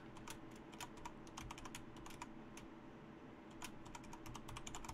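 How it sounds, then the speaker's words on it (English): Quick, uneven clatter of fingers typing on a computer keyboard, close and fairly faint, a continuous stream of keystrokes with no talking. "My typing is shit."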